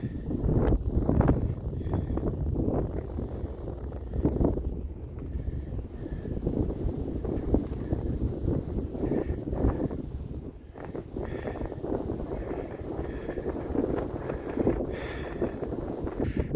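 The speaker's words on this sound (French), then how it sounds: "Je suis désolé pour le vent" Gusty wind buffets the microphone, a steady low rumble with rougher bursts throughout, no voices.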